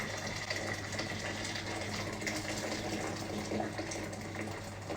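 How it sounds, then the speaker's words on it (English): Boiling water from a kettle pours continuously into a cooking pot for biryani, a steady close splashing gush with no break. "We're going to put all of the water into our pot, boiling water."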